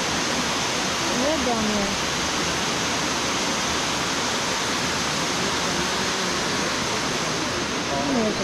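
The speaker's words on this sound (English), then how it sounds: "Look at that waterfall." A waterfall in autumn near Helen, Georgia roars as a steady, dense wash of broadband rushing water, constant and close for the whole span, with a voice briefly speaking over it.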